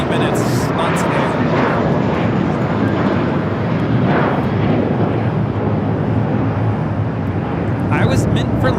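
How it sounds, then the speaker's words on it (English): A JetBlue Airbus A321 takes off for Fort Lauderdale at LAX, its engines holding a loud, steady broadband roar throughout, with voices talking over it. "taking off to Fort Lauderdale, JetBlue 1700 on this A321"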